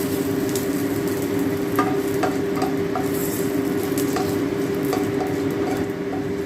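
Black mustard seeds, a dry chilli and bay leaves sizzle in hot mustard oil, a loud, steady frying hiss with scattered small pops and crackles throughout, close up and without talk.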